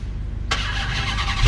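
A 2022 Dodge Charger SRT Hellcat Widebody fires up by remote start, a sharp crank burst at about half a second settling into a loud, steady idle rumble up close.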